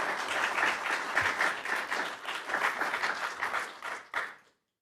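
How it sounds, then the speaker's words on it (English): An audience at a district mayoral and delegate forum applauds in a dense burst of clapping that carries on for several seconds before ending abruptly. "give them a round of applause."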